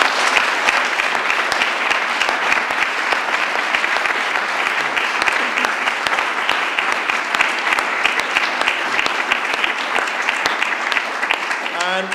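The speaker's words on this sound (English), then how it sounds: "Round of applause, please." A full audience claps loudly and steadily through a long round of applause at a school balloon debate, dense and close, with no letup from beginning to end.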